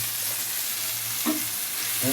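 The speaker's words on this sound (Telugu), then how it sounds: "ఇంకా టమాటా ఫ్రై కావాలి" Tomatoes frying in a pan with chilli powder and masala for peanut chutney, a steady soft sizzle running throughout with a brief stirring scrape near the end.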